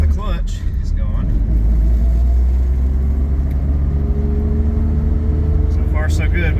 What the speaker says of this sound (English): let's see how the gears feel just going down the road